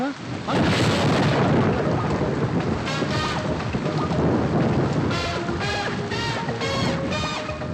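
Heavy rain with thunder from a Tamil action film scene, a dense steady roar throughout with a brief voice or sung phrases in the second half.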